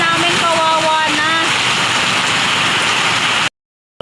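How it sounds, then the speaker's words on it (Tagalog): Heavy rain pours down steadily on surfaces outside a home with garden plants, a loud dense hiss with faint whistling tones over it, running for about three and a half seconds before stopping abruptly. "Sobrang lakas ng ulan mga day."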